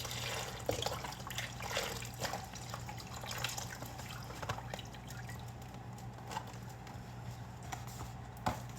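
Broth pours and splashes steadily into a crockpot for several seconds, faint and close, with a low background hum and occasional small clinks.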